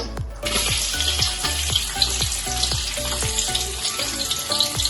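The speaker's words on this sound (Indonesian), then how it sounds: "ini kita tumis sampai dengan harum banget ini teman-teman" Chopped garlic is sautéed in hot oil, giving a busy, continuous sizzle and crackle with repeated sharp ticks and clinks as it is stirred, loud and close with no talking.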